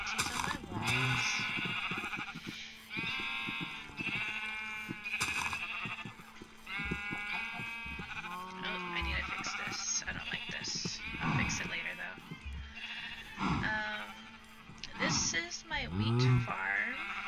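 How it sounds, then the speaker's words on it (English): Sheep bleat in a farm setting. Repeated wavering calls rise and fall across the stretch, mixed with other animal and ambient sounds and some nearby voices. "I have my sheep over here."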